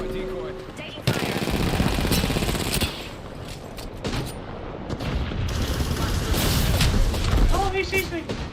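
Bursts of automatic gunfire rattle through a battle royale video game match, dense rapid volleys with brief pauses, heard alongside other game sounds.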